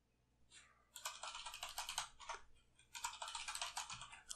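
Quiet clicky computer keyboard typing, a quick run of key presses in two dense bursts with a brief pause between, close and isolated with no talk.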